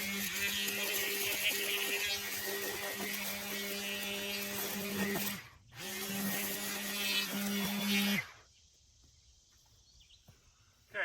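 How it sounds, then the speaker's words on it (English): An EGO 15-inch string trimmer attachment cuts weeds with a loud, steady electric whine. The whine dips briefly once, comes back, then cuts off and leaves near quiet. "I wanted to show you a little bit more weed whacking."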